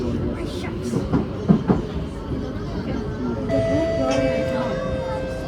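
An SMRT KSF C151B metro train on the Changi Airport line rumbles steadily along the track with rhythmic clatter, then a rising electric whine as it moves; background murmur throughout.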